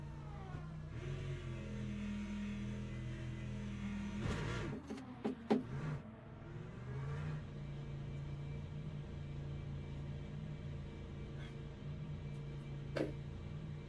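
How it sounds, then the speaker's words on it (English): Lexus race car engine in the Le Mans Ultimate racing game, a steady droning rumble with harmonic whine, a sharp gear-shift break with brief revving bursts midway, then a sustained engine tone. "This sounds quite nice, I think, the Lexus."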